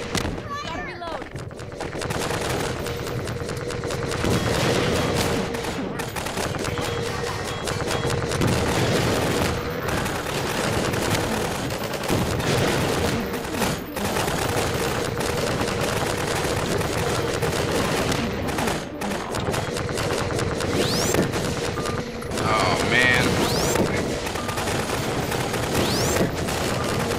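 Gunfire in the video game Half-Life 2, repeated bursts of automatic fire and single shots with loud sharp impacts throughout, a player speaking intermittently over the combat.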